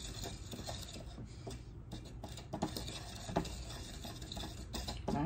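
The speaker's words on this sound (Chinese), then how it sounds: "把它搅拌，对不对？" A child stirs a wet mixture with extra water added, steady scraping and swishing of a utensil against a bowl with small knocks, close and continuous with no talk.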